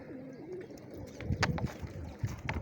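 Soft pigeon cooing nearby, with faint fluttering and scratchy movement in the background; no talking.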